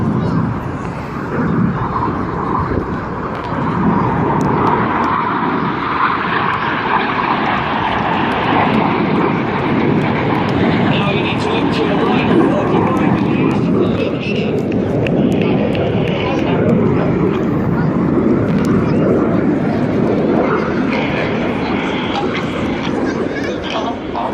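A steady, loud roar from display team aircraft flying past trailing red, white and blue smoke, sustained throughout with wind buffeting and a voice talking over it.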